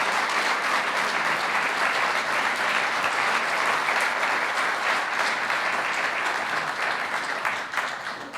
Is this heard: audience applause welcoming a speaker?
yes